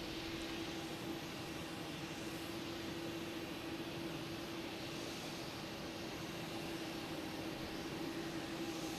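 An Airbus A220 jet airliner on runway 22 right at Boston Logan Airport in the evening, a faint, steady distant jet-engine whine and hum holding constant with no talk.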